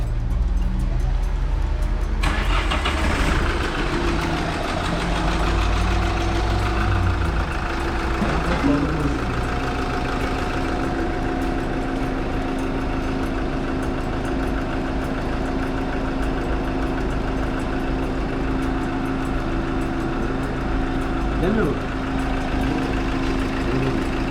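A caravan's engine runs at a loud, steady idle throughout, its deep rumble shifting a little in the first seconds before settling into an even drone, with some voices faintly underneath.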